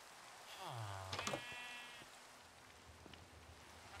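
Rain falling in the video game Minecraft, a steady soft hiss throughout, with a sheep bleating once near the start.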